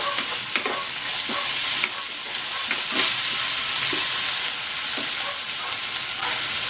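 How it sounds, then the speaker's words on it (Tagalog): Onions and tomatoes sauté in a hot pan with a loud, continuous sizzle and frequent stirring scrapes close by, with no talking. "Igisa ko na rin tong kamatis"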